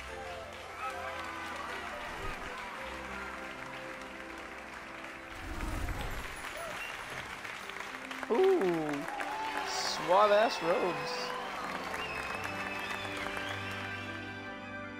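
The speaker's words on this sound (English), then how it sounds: "Why are you all cheering?" A crowd of students cheers and claps in a Hogwarts Legacy sorting scene, the noise swelling in the middle. Characters talk over it and other voices rise near the end.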